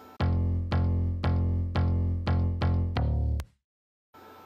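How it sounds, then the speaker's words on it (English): An acoustic bass from the Nexus guitar expansion pack plays seven evenly spaced, deep, full notes in a steady rhythm. It ends abruptly, followed by a short silence and then a faint sound. "And the acoustic bass sounds like this."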